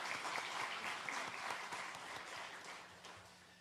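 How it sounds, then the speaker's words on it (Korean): A church congregation at a New Year revival service claps warmly after the choir's hymn, a dense wash of applause that slowly thins and fades away. "우리 박수 한번 하겠습니다."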